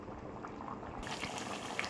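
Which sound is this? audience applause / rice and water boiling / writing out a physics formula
rice and water boiling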